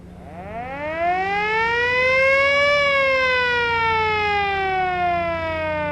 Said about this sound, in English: The siren works.